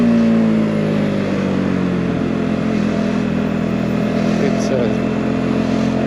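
A Voge R125 motorcycle rides through heavy traffic, its engine a steady, loud drone with a low hum and slight pitch shifts under wind rush, with no clear gaps.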